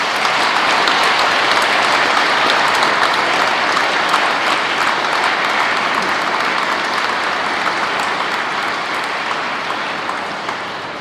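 Congregation at a Sunday Mass with youth confirmations breaks into sustained applause, a dense, steady wash of many clapping hands filling the whole stretch before easing slightly toward the end, with no talk over it.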